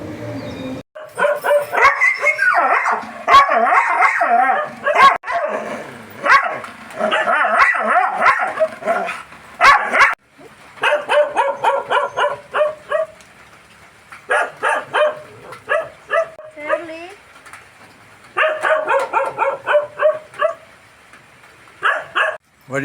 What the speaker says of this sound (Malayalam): പാൽകുടി മാറാത്ത നായ്ക്കുട്ടികൾക്ക്